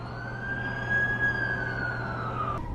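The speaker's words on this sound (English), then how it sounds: "That's the ambulance I called." A wailing ambulance siren rises and falls steadily over traffic rumble, fairly distant, with no voices.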